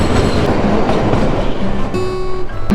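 The Kalka–Shimla narrow-gauge toy train rolls along with a dense, steady rumble and rattle of carriages, loud and close. Near the end the wheels let out a brief squeal.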